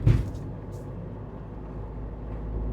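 A car engine pulls hard in third gear while overtaking on a highway. The sound is a continuous loud drone mixed with road and wind roar, steady from start to end, with no voices.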